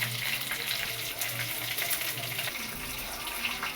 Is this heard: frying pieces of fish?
yes